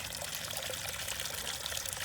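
Water rushes steadily from a fast-flowing water source beside a hiking trail, a close, continuous splashing pour heard without any voices.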